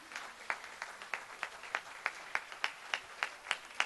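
A church congregation at a spiritual retreat claps in steady rhythm to acclaim the Lord Jesus, with even, regularly spaced hand claps at moderate volume and little else around them.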